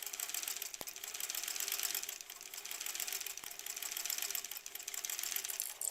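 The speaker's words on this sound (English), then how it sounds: "Now I'm going to sew the rest of the way down the side here." A sewing machine stitches steadily down the side of an embroidered koala zipper pouch, with a fast, even mechanical whir and a couple of faint clicks, close and continuous with no talking.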